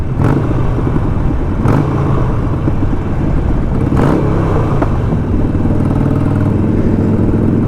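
A Harley motorcycle engine rumbling loudly and continuously up close, with several sharp throttle blips surging over the idle.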